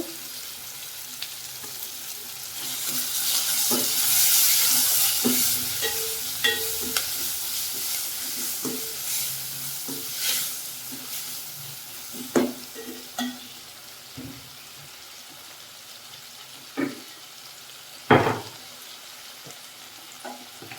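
Tomatoes hit onions frying in a pan for puffed rice upma, a loud hiss that settles into quieter sizzling, broken by sharp clanks of a spoon stirring against the pan, with no talking.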